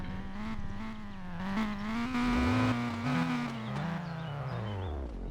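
A drift car's engine warms up before a tandem run, revving up and down in loud, close, wavering tones with rising and falling pitch sweeps and no talk.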